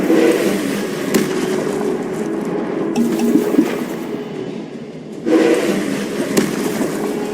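Incendio fire spell in Hogwarts Legacy bursts out with a loud whooshing blast, followed by a sustained roaring crackle. A second burst flares up later over continuous rumbling game ambience.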